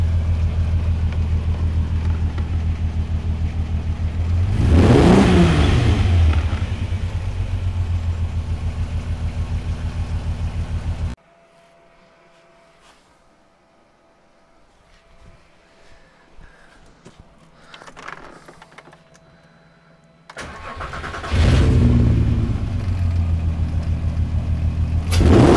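A VW Mk1 Caddy with an R32 engine roars loud and close with a sharp rev, cuts to near silence with faint rattles, then fires up and revs again.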